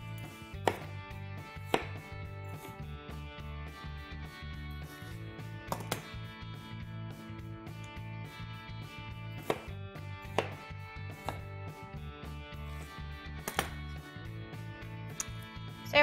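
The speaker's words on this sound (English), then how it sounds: "Now we're just gonna do them into some nice big chunks." A kitchen knife chops root vegetables such as turnips into big chunks on a board, with sharp, irregular knocks spaced a second or more apart over a quiet background and no talking.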